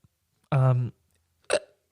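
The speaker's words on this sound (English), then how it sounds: "I got a little burp, sweetie." A single short burp-like vocal sound, close and fairly loud, followed after a pause by a brief second throaty burst; no talking over it.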